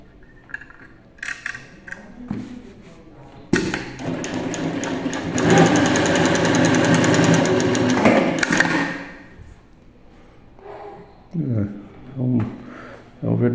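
Single-needle triple-feed flatbed electronic sewing machine with a jumbo bobbin hook, running in a loud continuous burst of about five seconds, with speech before and after the run.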